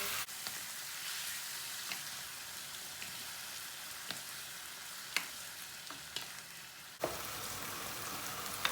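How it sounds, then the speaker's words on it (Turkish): Tomatoes and peppers sauté in a hot pan with a steady, even sizzle and frying hiss throughout, broken by a few sharp utensil clicks and one louder scrape near the end; no voices. "Domatesimizi de kavurduk, hafiften bir sulandırdık."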